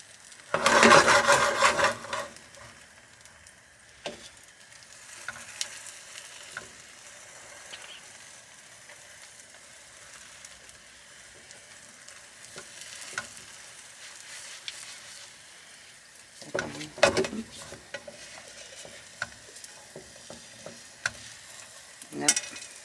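An egg for an omelette wrap fries in a pan with a wrap laid on top, cooked in a motorhome kitchen. A quiet, steady sizzle runs throughout, broken by louder scraping bursts at the start and again later on.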